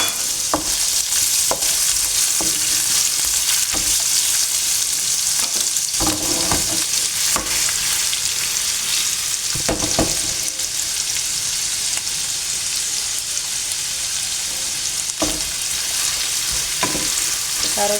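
Carrots frying in heated cooking oil in a pan, a steady bright sizzle running throughout with occasional stirring scrapes and clatter, no voices.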